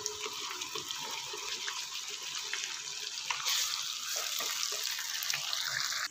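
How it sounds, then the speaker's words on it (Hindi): Water pours into a pan of chicken masala being cooked, a steady hissing splash that runs the whole time and grows slightly louder and fuller partway through, heard close with no talking. "थोड़ा सा पानी ऐड करने के बाद ये भी हम इसमें ऐड कर देंगे"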